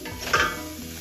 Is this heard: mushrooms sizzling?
yes